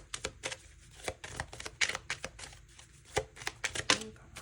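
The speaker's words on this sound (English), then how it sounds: "So while I was shuffling, because I pre-shuffled your cards that you could see" A deck of tarot cards is shuffled in repeated quick riffles and taps, close and crisp, with no talking over it.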